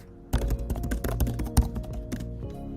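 A quick burst of typing on a computer keyboard, a rapid irregular run of close, crisp key clicks with one heavier keystroke near the middle, fairly quiet, no voices.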